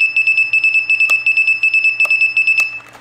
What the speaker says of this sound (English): So now that buzzer is connected to